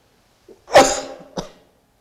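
A single person coughs in a quiet room during a Buddhist dharma talk: a harsh, close cough burst followed by a shorter second cough, then silence.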